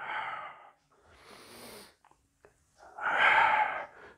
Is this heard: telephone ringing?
no